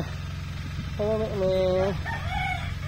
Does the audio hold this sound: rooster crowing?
yes